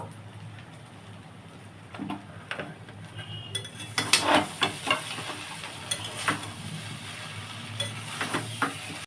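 Veg fried rice being stirred in a pan with ghee and garam masala powder, giving a soft steady sizzle with repeated scraping and clinking of a spatula against the pan, close and fairly quiet.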